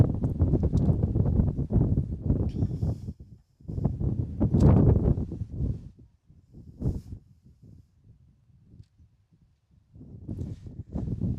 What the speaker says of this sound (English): When there's gusts that come through like that